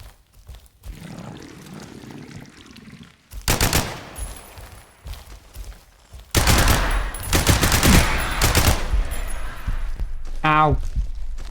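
Bursts of automatic gunfire from a weapon in the video game Shadow Project, loud clusters of rapid shots separated by quieter stretches, with a voice talking at times.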